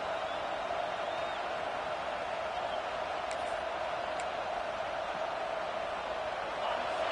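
A dense crowd roars steadily in a football stadium during a Tennessee vs LSU college game, a loud continuous wash of noise from start to finish with no clear pauses.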